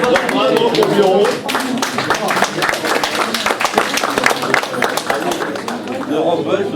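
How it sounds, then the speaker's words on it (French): An association's general assembly applauds its board, many people clapping irregularly at close range for several seconds, with voices talking and calling out over the applause. "Ah, il va applaudir. Bravo au bureau."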